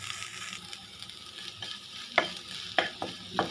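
Okra frying in a pan with chili powder and coriander powder, a steady soft sizzle broken by several sharp scraping stirs of a spatula near the end, close and alone with no talking.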